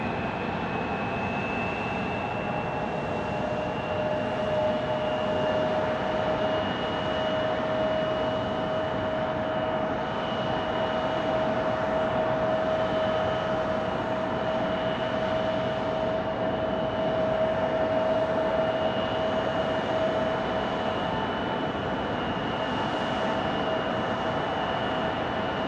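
A British Airways Airbus A350-1000 heavy jet arriving from London at Phoenix Sky Harbor, a steady loud engine roar with a sustained whine held throughout, no talk.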